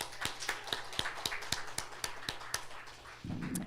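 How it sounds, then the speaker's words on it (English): Sparse, regularly spaced claps from a church service congregation, about a dozen sharp hits at a steady beat, fairly quiet, ending in a short burst of muffled noise. "So, hand of applause."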